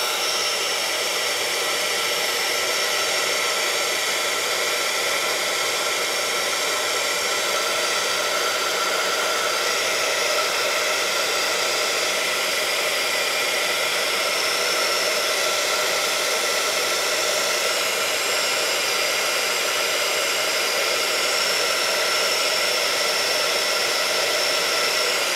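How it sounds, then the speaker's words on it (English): A heat gun blows a steady, loud stream of hot air over freshly brushed acrylic paint in muted colors. The broadband whoosh holds unbroken and even for the whole stretch, with no talking. "So let's dry it with the heat gun"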